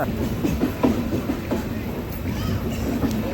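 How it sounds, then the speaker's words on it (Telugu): The Swarnajayanthi superfast train pulls out of Rajahmundry railway station, its wheels clicking in a quick, rattling rhythm over the rails amid a steady rumble heard from inside a busy general coach. "సో మన ట్రైన్ అయితే రాజమండ్రి నుంచి మూవ్ అయిపోయిందనమాట"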